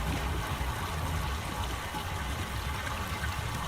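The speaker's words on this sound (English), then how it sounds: "Well, I got this valve open, so I hear water flowing." Steady broadband rush of running water after a valve is opened in the game Myst, a constant flowing trickle heard alone at moderate level.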